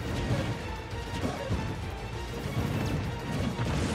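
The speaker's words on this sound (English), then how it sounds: "Just letting those forward smashes rip." Super Smash Bros. Ultimate match between Samus and Bowser, with heavy forward smash attacks landing as dense, continuous crashing and thudding impacts over a loud, busy game mix.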